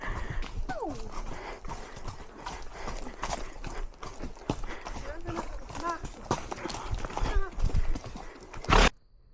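Horses move on wet, cold ground during an outdoor ride, with hooves clip-clopping in an irregular rhythm close by and an occasional whinny, while people talk over much of it.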